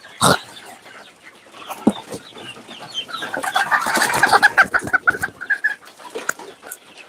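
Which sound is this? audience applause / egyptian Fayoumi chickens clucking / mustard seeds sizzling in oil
egyptian Fayoumi chickens clucking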